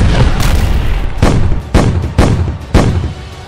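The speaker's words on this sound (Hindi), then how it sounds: "गाजा में रात का एक एक मिनट नए धमाके के साथ गुजरता है।" Bombs from nighttime airstrikes on Gaza explode in a rapid series of about five heavy booms, each a sharp thud trailing into rumble, loud and close with no talking.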